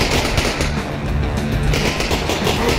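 Rapid gunfire from Half-Life: Alyx rattles continuously in dense, loud bursts of shots with no pauses and no voices.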